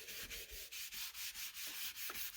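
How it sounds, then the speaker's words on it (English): A blending tool rubbing ink onto a paper tag in steady back-and-forth strokes, a soft regular scratchy swish repeating about every quarter second, close and alone. "if you want kind of a smoky look, you can go ahead and just rub it all in"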